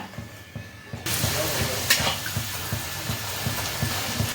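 Green-pea-stuffed kochuri deep-fry in hot oil. A broad, steady hiss starts suddenly about a second in, as the dough goes into the pan, and continues with low rhythmic bubbling, fairly close and loud.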